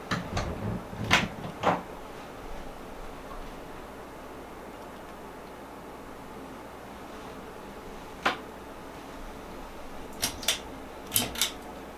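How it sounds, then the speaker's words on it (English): A door in a private cigar lounge is pushed shut: a few sharp knocks and clicks near the start, then a quick cluster of latch clicks toward the end, over a low steady room hum from a running air purifier. "I'm going to go ahead and push this door shut."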